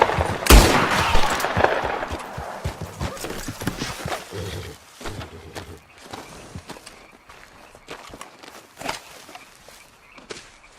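Scattered gunshots aimed at rabbits in Red Dead Redemption 2, a sharp close crack near the start followed by lighter intermittent shots, mixed with horse hoof clops and footsteps in an outdoor game setting.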